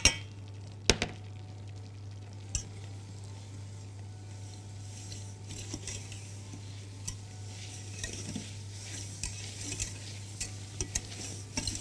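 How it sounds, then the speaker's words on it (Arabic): Starch, sugar and butter are stirred in a pan over a steady low hum, with soft scraping and occasional clinks of the utensil against the metal, close and fairly quiet. "دلوقتي على طول هنحط النشا ونقلبه مع السكر والزبدة"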